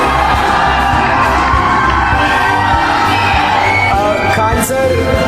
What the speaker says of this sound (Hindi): खान सर के लिए एक बार जोरदार ताली बजा दीजिए